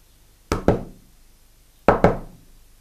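A coded knock on a door in the video game Résistance 1942: two quick raps, a pause of over a second, then two more quick raps, crisp and close, with nothing else heard.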